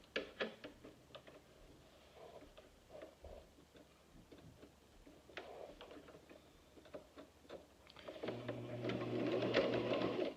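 A sewing machine stitches a homemade face mask with elastic hair bands, running in short, light mechanical bursts that build into a steadier, louder whir toward the end. It is heard close up with no talking.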